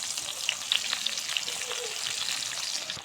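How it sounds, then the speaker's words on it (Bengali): Chopped onion fries in hot oil with bay leaf and cinnamon, giving a steady, close sizzle with crackling pops and a few stirring scrapes. "পেঁয়াজটা ভাজা ভাজা হয়ে গেছে আমাদের।"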